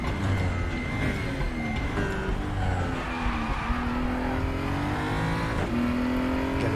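Race car in RaceRoom running flat out then braking for a hairpin, engine note swooping down through gears and climbing again, with tyre squeal and skidding over a loud, continuous roar; no speech.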